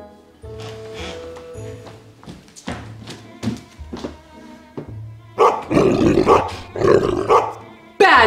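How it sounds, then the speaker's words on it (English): A dog barking and growling in a video game with sword combat, heard as rough bursts alongside thuds and blows, with game music underneath. "Bad dog!"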